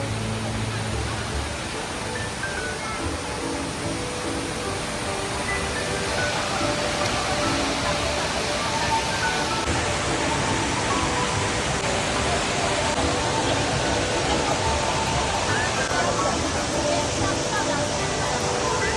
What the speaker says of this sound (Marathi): हा बघा पाण्याचा फवारा